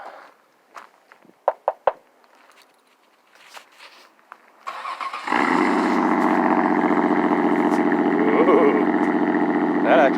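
A car with a 3.0 V6 and a fresh muffler with a chrome tip starts after a few footsteps and clicks, then settles into a steady, close, loud idle for the remaining seconds.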